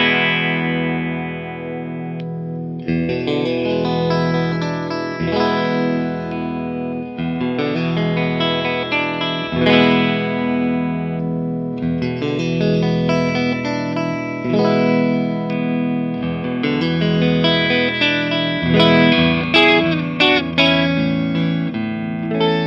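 A restored 1979 Fender Stratocaster electric guitar plays loud, sustained chords and riffs through a distorted, effects-laden tone with chorus and reverb, strummed steadily for over twenty seconds with short breaks between phrases.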